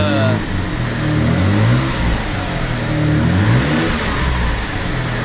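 Twin-turbo engine of a 1992 Dodge Stealth R/T, exhaust leak repaired, revving loud and close in repeated rising and falling sweeps over a steady running drone.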